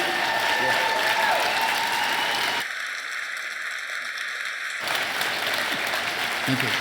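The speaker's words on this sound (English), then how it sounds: "give him a hand clap" Sustained applause from a seminar audience thanking a health and wellness lecturer: dense, steady clapping from many hands that fills the room and runs throughout, with a stretch where the texture thins and turns smoother before the full clapping returns.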